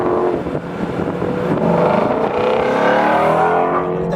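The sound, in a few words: Ford Mustang Shelby GT350 engine while driving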